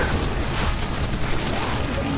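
Shotgun fire in the shooter game Serious Sam: BFE, a dense, booming blast of continuous loud shots and explosions with no clear pause, close and heavy.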